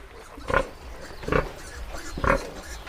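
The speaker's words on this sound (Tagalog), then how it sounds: "Lalaki ng mga baboy." Pigs on a farm grunt and snort in three loud, separate bursts about a second apart, close by, with a low background hum between them.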